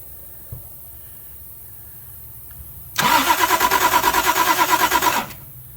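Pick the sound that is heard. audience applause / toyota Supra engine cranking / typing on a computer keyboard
toyota Supra engine cranking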